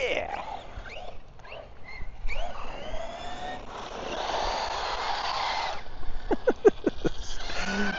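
A Losi RC car drifts across a surface, its small motor whining in rising and falling sweeps with skidding tire bursts near the end, heard close alongside background noise.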